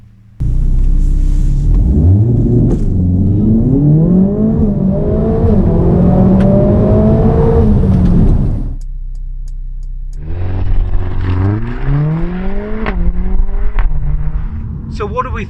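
A 2020 Mercedes-AMG A 45 S 4MATIC+ accelerates hard on the road, its engine revving up through rising gears with distinct shifts, loud and close, a short drop-off before it pulls hard again.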